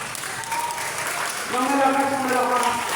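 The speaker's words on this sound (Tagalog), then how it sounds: "Ang happy ay pumapalakpak." A church congregation claps hands together in a dense, steady patter of applause, with a voice rising over the clapping partway through.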